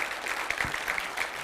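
Brief burst of steady clapping from a conference audience at a C++ programming talk, filling the whole moment at moderate loudness.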